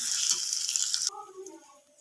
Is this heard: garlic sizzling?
yes